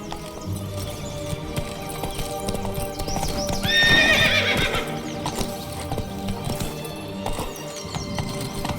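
A horse gallops in The Witcher 3: Blood and Wine, with steady, loud hoofbeats throughout. A clear whinny rises midway over the game's background sound.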